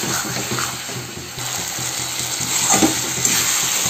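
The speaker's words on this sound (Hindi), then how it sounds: "अब इसी में मैं मशरूम डाल दूँगी और ये मसाला के साथ ही मुझे अच्छे से इसको फ्राई कर लेना है।" Mushrooms fry with masala in a pan at close range, a steady loud sizzle with occasional stirring scrapes and no one speaking.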